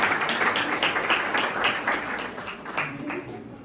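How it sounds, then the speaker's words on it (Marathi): An audience at a degree award ceremony applauds a graduating student, dense clapping that is loud at first and gradually thins and fades, with some crowd murmur beneath. "गायत्रीसाठी टाळ्या झाल्या पाहिजेत"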